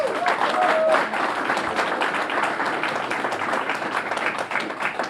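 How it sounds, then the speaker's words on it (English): Applause from guests at a June 2019 reception for Somersfield's Centre for International Education, steady and fairly close for about five seconds. "Please join me in applauding the Somersfield dreamers and doers,"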